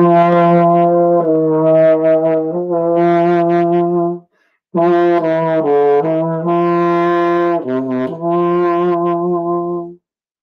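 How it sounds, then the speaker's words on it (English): A baritone horn plays a melody of sustained, mellow brass notes, loud and close, with one brief pause midway. "This instrument is called a baritone, and it sounds like this."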